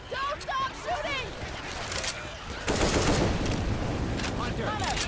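Dense gunfire in the zombie shooter Left 4 Dead 2 during a survival round at the Dark Carnival stadium gate, with sustained rapid bursts growing heavier midway, mixed with in-game voices and effects.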